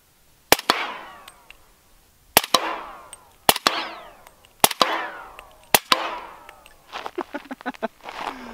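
Suppressed .50 caliber heavy sniper rifle fires at a sewer lid outdoors, five sharp loud cracks spaced about a second apart. Each crack is followed by a ringing, decaying metallic whine, and a burst of smaller rattling impacts comes at the end.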